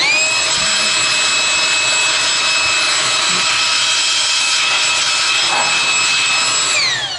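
A Kobalt 24-volt 270-cfm cordless hand blower runs continuously at close range, making a loud, steady whining whoosh that holds even throughout and begins to wind down at the very end.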